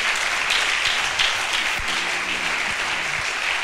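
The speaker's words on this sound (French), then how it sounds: "On acclame plus fort que ça." Dense, steady applause from an audience at a talk, a loud wash of many hands clapping together without pause, close and continuous throughout.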